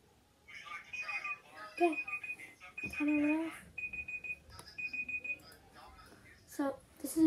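An electronic kitchen-style timer alarm beeps in a string of short high-pitched pulses, coming in repeated bursts with gaps between them, while a person talks over it during a blindfolded drawing challenge.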